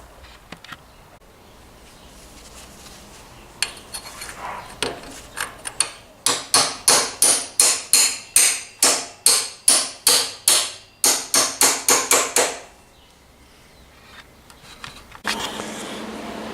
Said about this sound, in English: then we'll hammer them in